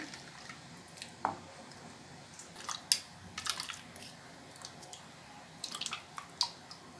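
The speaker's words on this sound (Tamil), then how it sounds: "இதை வடிகட்டி தேங்காய் பால் மட்டும்தான் நம்ம சேர்க்க போகிறோம்" Ground coconut being strained for coconut milk for a fenugreek curry, heard as quiet, scattered wet drips and squishy squeezes with a few sharper splashes, close up against a faint background.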